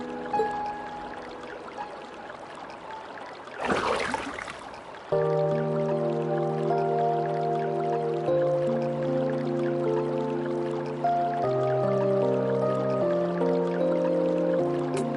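Gentle splashing and dripping of bath water in a hot spring in Trails of Cold Steel 2, a brief burst of sloshing followed by soft drips under a calm, sustained musical backdrop.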